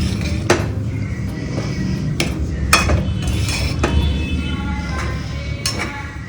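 Spoon scraping and clinking against a pan while stirring upma, a few sharp metallic taps and scrapes spaced irregularly over a low kitchen background, close and fairly loud.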